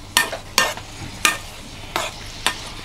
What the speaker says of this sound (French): Donc on va mélanger tout, ça sent divinement bon.